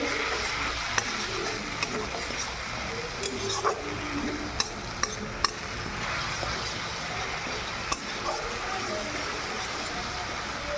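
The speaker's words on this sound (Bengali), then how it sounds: "তারপরে দেখো আমরা পেঁয়াজটা দিয়ে দিয়েছি, একটা শুকনো লঙ্কা ফোড়নে দিয়েছি। একটু 10 মিনিট আমি কষে নেব।" Sliced onions with a dried red chilli sauté in a pan, a soft continuous sizzle broken by sharp spatula taps and scrapes against the metal.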